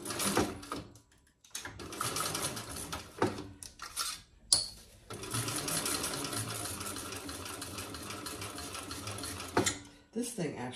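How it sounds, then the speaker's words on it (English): A sewing machine stitches a tote bag seam in bursts of rapid whirring, stopping briefly between runs, close and clear, with a person speaking in the pauses. "we're just going to sew this together at the seam allowance in the pattern"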